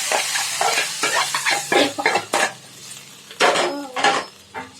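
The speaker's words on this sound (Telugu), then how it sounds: "తాలింపు వేస్తానండి" Hot oil crackles and sizzles as a spoon scrapes and stirs a tempering in a metal pan, with several sharp clinks close by.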